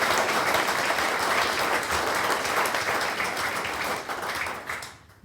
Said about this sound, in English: just one more round of applause to show